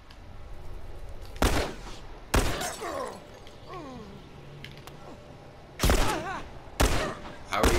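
Loud gunshots from The Last of Us video game ring out as a few sharp, separated bursts, with a pair spaced apart early and another pair near the end, over a quieter game background with some voices.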